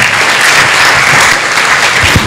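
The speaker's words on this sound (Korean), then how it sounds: "큰 박수 부탁드립니다." Loud, close applause from an audience at a university forum welcoming a keynote speaker, a dense continuous wash of clapping throughout the short stretch.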